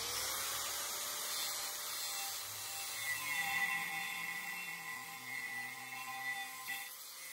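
A power tool cuts straight down into a custom Crown Victoria wheel part, a steady high whine with a faint bandsaw-like edge holding level and close throughout, slightly rising in the middle.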